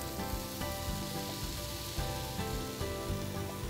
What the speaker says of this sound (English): You're going to start with a nice big pat of butter. Add in our nice diced apples.